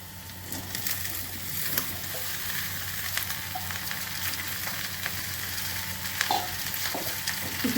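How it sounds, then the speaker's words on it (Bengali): Snake gourd (chichinga) pieces frying with onion, turmeric and salt in a pan for a shrimp dish give a steady close sizzle, broken by occasional scrapes and clacks of stirring. "এবার চিচিঙ্গাগুলো দিয়ে দেবো।"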